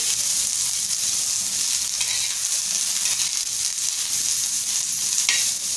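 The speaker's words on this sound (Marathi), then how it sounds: "1 इंच आल्याचे तुकडे घेतलेले आहे ते टाकूया आणि छान असं परतून घेऊया" Garlic cloves and inch-long pieces of ginger sauté in a hot pan with a close, continuous sizzle, steady and fairly loud from start to finish.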